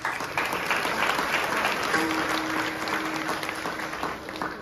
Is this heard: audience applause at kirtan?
yes